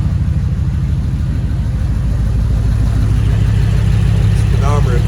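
A 1940 Ford runs with a steady, loud low engine drone and rumble while its wheels spin, a continuous mechanical hum close by with no break.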